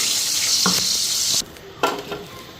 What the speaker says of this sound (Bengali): আলুটাকে হালকা ফ্রাই করে নিই